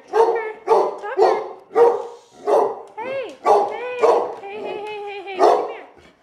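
A dog in a house gives a string of loud, close barks, yips and whining, howl-like calls in an uneven rhythm, with some overlapping voice sounds.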